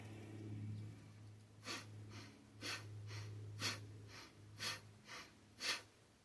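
Breath of Fire yoga breathing: about six sharp, forceful breaths pulse at a steady quick rhythm through the nose, close and fairly quiet, with a low steady hum underneath.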